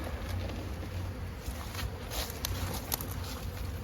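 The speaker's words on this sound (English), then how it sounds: "I'll just smoke it so we squish the minimum number of bees." Honeybees buzzing around a hive being smoked during spring colony work, a soft continuous hum with faint taps and rustles of handling nearby.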